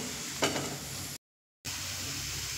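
Crushed roasted peanuts stirred into a frying filling for raw mango chops, a soft scrape and sizzle with one brief louder stir, broken by a short gap of silence before the steady frying resumes.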